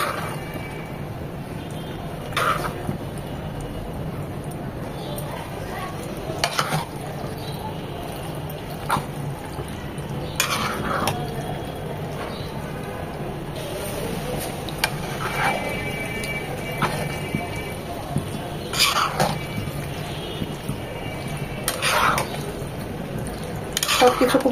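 A spoon stirs white sauce chicken pasta seasoned with pepper, oregano and chilli flakes in a pan, giving soft, repeated scraping knocks at an irregular rhythm over a steady low background hum.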